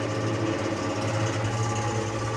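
A mini oil press runs while pressing seeds, its motor giving a constant droning hum with a steady mechanical whine, close and unbroken.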